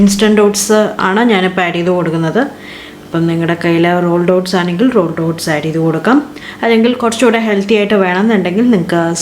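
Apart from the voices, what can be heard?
None of the usual background noises is heard.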